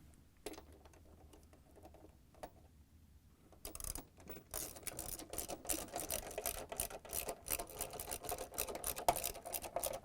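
A 10 mm socket wrench tightens the stator bolts on an LG/Kenmore washer rear outer tub assembly, giving a quiet rapid ratcheting patter that starts after a few seconds of near silence and continues close by without talk.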